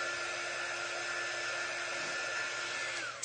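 A hair dryer blows steadily on a handmade Christmas craft sign, a close, loud, constant whir that cuts off at the end.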